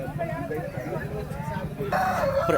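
A rooster crows at a Vijayawada poultry market, a drawn-out call rising near the end over background chatter and someone talking nearby.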